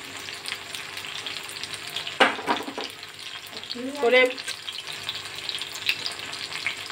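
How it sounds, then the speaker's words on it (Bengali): Prawns frying gently on low heat in a pan for a Chinese-style kebab give a soft continuous sizzle, with a few louder clinks and stirring scrapes partway through. "করে আমি এটাকে ভালো করে ভেজে নেব হালকা আঁচে।"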